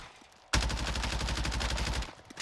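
Lapa submachine gun firing in Warzone, a sudden sustained full-auto burst of about a second and a half, with rapid evenly spaced shots, loud and close, then cutting off abruptly.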